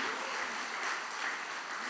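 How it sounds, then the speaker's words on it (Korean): A church congregation claps together at a Christmas service, a dense, steady patter of many hands filling the room for about two seconds. "다시 한번 박수 한번 해보세요"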